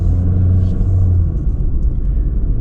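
Honda HR-V LX AWD with a CVT pulling away from a standstill, a steady low engine and road rumble that stays loud and close throughout with no talk.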